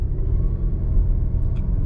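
A 2021 Volvo S90 climbing a hill, heard from inside as a steady low engine and road rumble with no audible talk.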